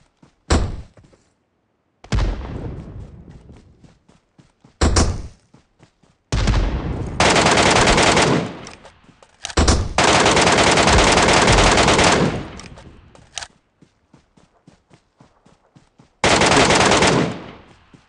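Video game gunfire from Metro Royale: loud bursts of automatic fire in several long and short strings separated by brief quiet gaps, close and with no talk over them.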